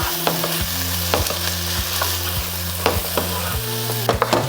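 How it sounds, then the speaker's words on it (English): Garlic and onion sizzle steadily in a hot pan, with a spoon stirring and scraping in a regular rhythm of knocks against the pan, close and loud, with no talking. "I'm gonna add in the garlic. Just stir this up a little bit."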